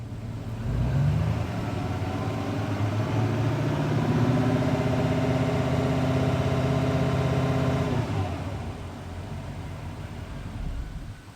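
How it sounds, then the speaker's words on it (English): A GMC Sierra 3500HD diesel truck engine runs at a steady idle, close and continuous, with a low droning hum that drops away near the end and then settles back to a quieter idle. "I'll leave the car running because it's a little warm out today."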